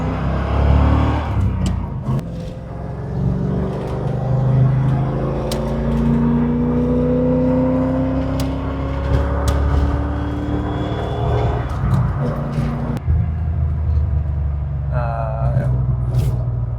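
A Chevrolet Corvette drives on the highway, its engine droning and rising through gears with steady road and wind noise, close inside the car while people talk over it.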